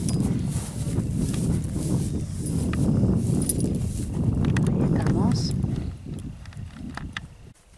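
A Pampa work horse, a 1.53-metre ranch horse, walks with a steady clip-clop of hooves on the ground, mid-distance, while someone talks over it.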